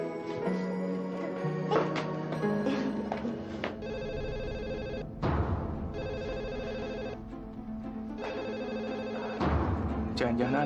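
A telephone rings in a home in repeated electronic bursts, mixed with background drama music and a voice speaking at the start.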